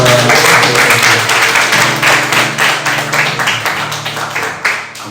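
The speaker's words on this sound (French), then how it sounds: "On peut les applaudir pour..." Congregation applauding during a church service in France to welcome visitors, close, loud clapping with a distinct rhythm that slowly thins out, with faint voices underneath.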